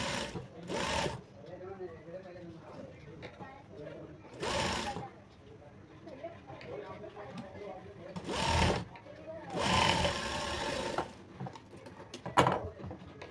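A sewing machine stitches part of a Madhubala-style blouse in several brief whirring bursts spread through the passage, with someone talking steadily between and around them.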